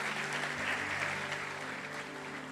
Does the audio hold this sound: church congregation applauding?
yes